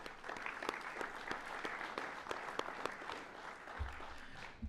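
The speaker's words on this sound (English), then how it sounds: "Let's give them a round of applause." An audience applauds at a university athletic hall of fame ceremony, with steady, moderately distant clapping in a large room and a few sharp, close individual claps standing out over the crowd.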